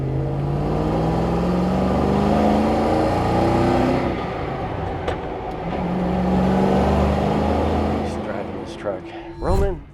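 A Mercury M250 Crew Cab truck drives in low gear, its engine droning and revving steadily through the shifts while a person talks over it.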